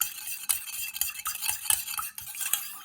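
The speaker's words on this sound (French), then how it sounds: "Je mélange tout." Mixing ingredients for a homemade toner lotion in a small container, with quick, bright clinking and scraping strokes in a brisk, irregular rhythm, heard up close with no voices.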